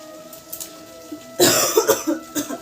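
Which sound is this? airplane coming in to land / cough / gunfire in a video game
cough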